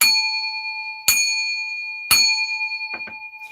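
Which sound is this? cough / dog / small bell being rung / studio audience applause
small bell being rung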